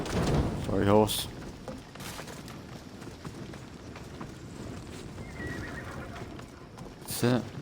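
A horse in the Assassin's Creed Odyssey video game whinnies loudly twice, once near the start and once near the end. Between the neighs, hooves clip-clop and game noise fills the background.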